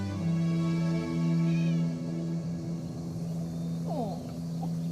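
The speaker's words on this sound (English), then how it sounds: "can you guys hear her meowing?" A cat meows a few times, fairly faint, over a steady droning hum.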